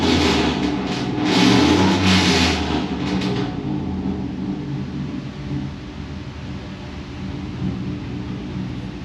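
Car engine revving in a garage working on a Firebird, a loud rising roar in the first few seconds that fades into a low steady rumble.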